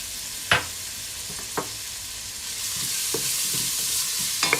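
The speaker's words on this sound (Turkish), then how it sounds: "Şöyle güzelce kavuruyorum. Yaklaşık 2-3 dakika boyunca kavuracağım ben bunu." Quartered onion and grated carrot sautéing in oil, a continuous sizzle punctuated by a few sharp spoon taps and scrapes against the pan, close and without speech.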